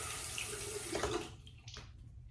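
Running tap water pours steadily over a razor being rinsed, a close, continuous splash that fades and breaks up toward the end as the flow is moved.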